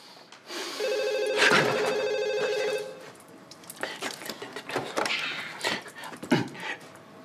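A telephone rings loudly and nearby in a home, a sustained trilling electronic bell for about two seconds, followed by rustling, soft thuds and movement afterward.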